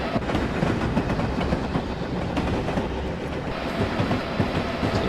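A train in Train Simulator 2015 rolls along the rails with continuous clickety-clack and rumbling wheel noise, loud and steady throughout, no talking.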